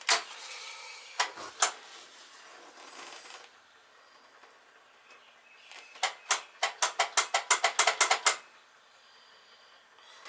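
An old boiler with multiple faults powers on with scattered mechanical clicks, then a rapid accelerating run of sharp ticks like a ratchet or igniter clicking before stopping, set against near silence.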